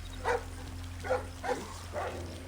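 A guard dog in the stealth video game Splinter Cell Blacklist gives four short, moderately loud barks at a fairly even pace over a low, steady background hum.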